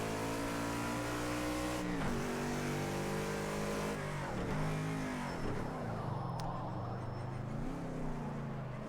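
A race car engine in the racing game Project Cars 2 drops through gears as the driver brakes: steady loud engine drone with pitch dips at each downshift and a faint tire squeal.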